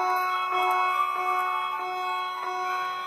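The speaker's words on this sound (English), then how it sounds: "I just sounded the alarm." An alarm sounds in the video game Five Nights At Smudgers 2 as a steady, sustained electronic tone with a faint pulsing wobble, alone and fairly loud.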